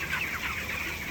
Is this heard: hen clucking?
yes